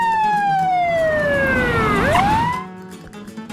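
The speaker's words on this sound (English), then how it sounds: "Just then, a police car pulled over across the street." Police car siren in the Despera Drops game, wailing loudly with a steady downward sweep that then swings back up before cutting out, no other sound competing.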